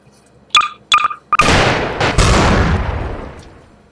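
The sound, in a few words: NPC gunshot in video game Garry's Mod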